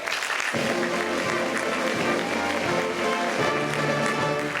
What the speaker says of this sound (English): a warm round of applause, if you please